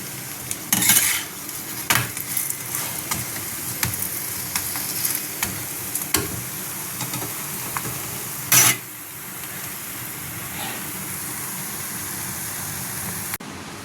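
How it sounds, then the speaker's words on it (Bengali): A chicken paratha fries in a little oil in a pan, with a steady close sizzle and intermittent sharp scrapes and clinks of a utensil against the pan. "এইভাবে চারিদিকে ভাজতে হবে তেল দিয়ে দিয়ে অল্পই তেল লাগে"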